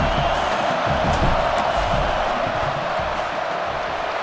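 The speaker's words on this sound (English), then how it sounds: "This crowd trying to do its part to get inside the kicker's head." Stadium crowd in a college football video game, Tennessee vs Florida State, roaring steadily and loudly throughout as the kicker lines up a fourth-down field goal attempt.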